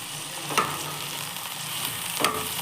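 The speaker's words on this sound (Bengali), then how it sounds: "আমি এতে অ্যাড করব কাঁচা লঙ্কা কুচি। একটু ভাজা ভাজা করে নিচ্ছি আমি।" Chopped green chilies frying in hot mustard oil give a steady close sizzle, with two sharp clinks of a stirring spoon against the pan.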